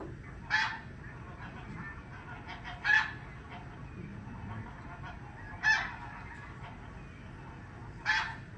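Four loud honking calls from snow geese ring out at spaced intervals over a steady background murmur, the calls sharp and fairly close.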